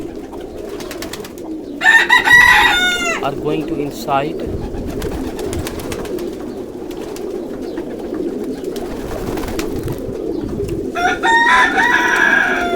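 Pigeons in a pigeon loft coo and call in bursts over a constant murmur of birds, while someone talks quietly nearby.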